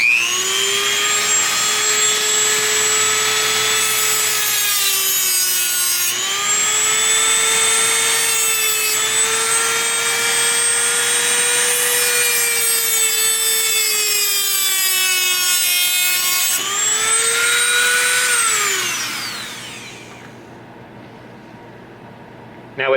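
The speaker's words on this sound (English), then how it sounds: "Let's cut right through that LED right there." A cutting wheel grinds steadily through a KR Pixel Stick LED strip for a custom Star Wars lightsaber, a loud, high whining screech that holds for about sixteen seconds, briefly pauses twice, then winds down and fades.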